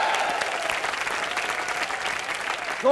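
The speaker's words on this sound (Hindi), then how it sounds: "जोरदार तालियां" Studio audience applause on a live Hindi comedy television show, a broad, sustained burst of clapping and crowd noise at moderate level, joined near the end by a sudden louder tonal sound.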